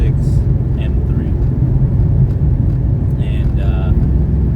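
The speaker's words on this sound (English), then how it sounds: "Introducing the new to me, soon to be 22, 23-year-old LS swapped E46 M3." A 22- to 23-year-old BMW E46 M3 with a swapped LS V8 rumbles steadily and loudly throughout, a deep continuous engine drone with people talking over it.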